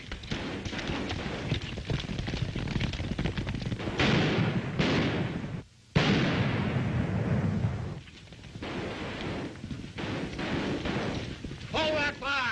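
Gunfire crackles through a 1939 western film scene, with repeated loud shots and bursts mixed under shouting voices and chaotic action, broken by one brief silence.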